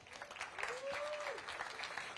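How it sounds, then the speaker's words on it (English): Steady applause from a crowd for longboard surfers at a championship finals day in El Salvador, a soft, even patter of clapping with a faint tone sliding through the middle. "So let's give a big round of applause for everyone in the 2024 Longboard Tour."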